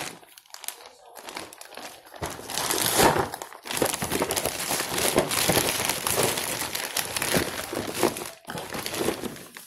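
A plastic bag crinkles and rustles up close, loud and continuous through most of the stretch, with a brief pause near the end and soft talk underneath.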